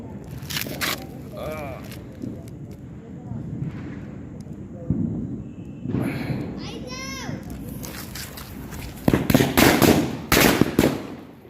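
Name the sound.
Diwali firecrackers bursting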